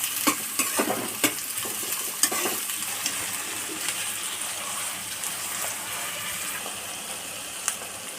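Onions frying in a pan for chicken curry, a constant crackling sizzle with occasional clicks and taps from a stirring spoon, fairly close and even throughout.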